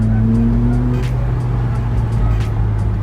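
A Ferrari 458 Italia cruises slowly along the Las Vegas Strip, its engine holding a loud, steady, close-up drone with no sharp revs.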